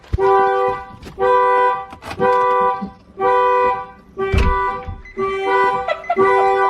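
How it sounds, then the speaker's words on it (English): A Nissan 350Z car alarm sounds close and loud, its horn-like tone pulsing in repeated blasts of about a second each with short gaps between them. "make the alarm stop going off"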